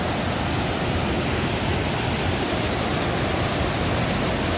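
Loud, dense, unbroken roar of water pouring down from above in the Konkan region during heavy rain, steady and close with no pauses.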